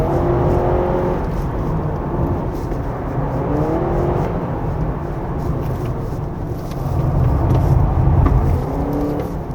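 A 2025 Honda CR-V Hybrid 4WD pulls hard at full throttle on a winding mountain road, a steady close engine and motor whir heard from inside with rising tonal sweeps and no talking.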